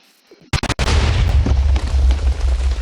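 A sharp burst of pops gives way to a loud, rumbling Minecraft explosion that roars and crackles on for a couple of seconds.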